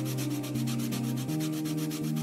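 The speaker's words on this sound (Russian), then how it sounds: "Вот он, шлифовочный аппарат у нас появился." Sanding machine working a wooden toy in the video game Toy Tinker Simulator: a continuous rhythmic rubbing rasp pulses steadily over a low motor hum, loud and close, with no voices.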